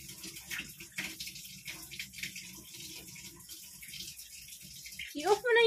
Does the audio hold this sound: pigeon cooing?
no